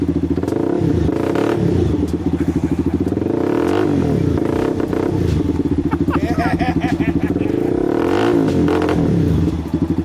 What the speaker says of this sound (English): that is a CBR300. That's so awesome. That sounds insane.